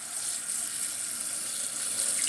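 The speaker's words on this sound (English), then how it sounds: "you wanna rinse it until clear water comes out" Tap water runs steadily over clay pebbles being rinsed in a sink for a semi-hydroponic Philodendron micans setup, a constant close hiss and splash with no pauses and no voices.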